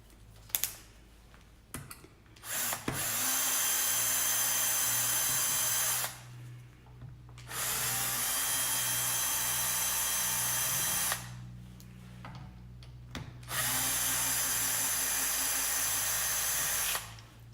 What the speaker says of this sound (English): It's amazing how powerful this little drill bit is, drill driver.